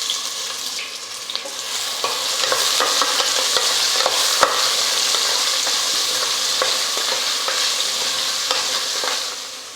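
Lengthwise-sliced onions hiss and crackle in ghee with whole spices and bay leaf, a steady close sizzle broken by the scrape and clatter of stirring.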